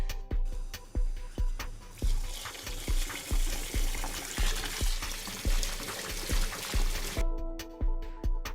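Cold water pours into a large pot of washed wheat, a splashing, gurgling stream running close with a rhythmic series of soft knocks throughout.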